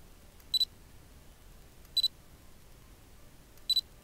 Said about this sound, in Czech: zaostřím, podržím a teď jsem vyfotil